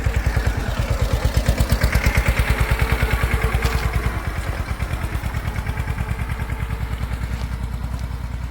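A small farm tractor engine runs while spraying pesticide in a field, a loud, close, rapid chugging pulse that holds steady throughout, with no voices.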